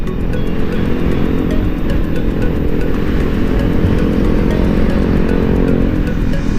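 Steady engine drone from a motorcycle being ridden in traffic, a constant loud hum with wind rush that holds evenly throughout, no voices.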